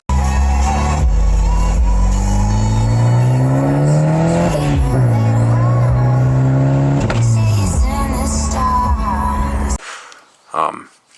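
A car engine revs hard through rising and falling gears at close range, loud and sustained, then cuts off abruptly near the end as a part blows out, leaving brief faint rustles.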